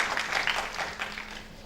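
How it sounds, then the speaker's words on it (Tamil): A crowd claps briefly at a Tamil film audio launch, a short burst of dense applause that tapers off within a couple of seconds. "கரகோஷம் கொடுங்க"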